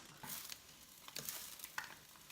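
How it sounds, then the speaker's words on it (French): Eggs frying in a pan, a soft steady sizzle with faint crackles and occasional stirring scrapes, quiet and close, with no talking. "je suis en train d'attendre que les œufs finissent de cuire"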